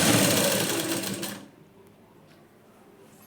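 A sewing machine stitches the front of a plain blouse, running in a loud steady whir for about a second and a half before stopping, followed by quiet handling.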